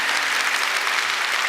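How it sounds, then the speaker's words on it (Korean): A congregation in a Korean church worship service with a children's department claps together in steady, dense applause, loud and close, with no talking over it. "우리 박수 한번 할까요?"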